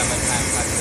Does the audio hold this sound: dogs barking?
no